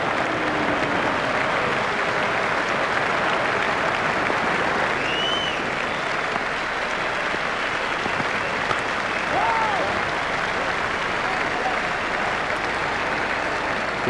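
Crowd at a South Africa versus Australia one-day international cricket match applauding Klusener's half-century, a broad sustained wash of clapping across the stadium, with a faint commentator voice beneath.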